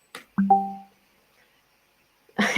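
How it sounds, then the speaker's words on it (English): A short two-note electronic chime rings out clearly in silence, fading quickly, followed after a pause by a person starting to speak. "So we have notification sounds like this one."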